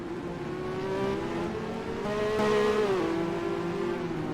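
Simulated Formula 1 race cars in the NASCAR Racing 2003 video game, a steady high engine drone that rises and falls as the cars overtake, with layered engine pitches and no voices.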